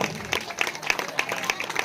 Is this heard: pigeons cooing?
no